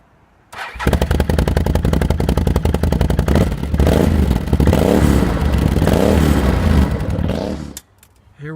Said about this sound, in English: We got a stock 2013 CanAm Outlander XMR 650 with a stock exhaust.